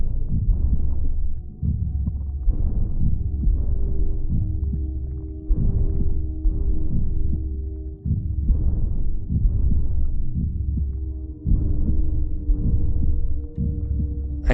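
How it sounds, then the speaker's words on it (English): A deep, muffled heartbeat pulses in the video game What Remains of Edith Finch, a steady series of low thumping beats in repeating groups that fill the whole stretch, with no voices. "I can hear a heartbeat."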